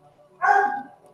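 A single dog gives one short bark or yelp nearby, in a quiet indoor room with faint background hum.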